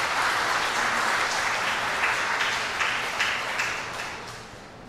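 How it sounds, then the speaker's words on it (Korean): Wedding guests in a banquet hall applaud warmly, a dense, steady wash of clapping that holds strong before tapering off toward the end, with no talk over it. "큰 박수 부탁드리겠습니다."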